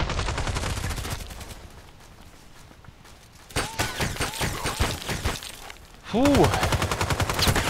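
Rapid bursts of automatic gunfire crackle in the online shooter Contract Wars, with a quieter pause in the middle, then renewed loud shooting and a brief voice exclamation.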